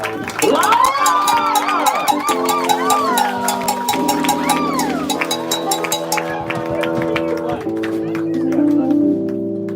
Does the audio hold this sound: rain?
no